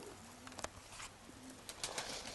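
Pigeons cooing softly near a dovecote on a drizzly day after a flight, a few low repeated coos with faint rustling and light background noise.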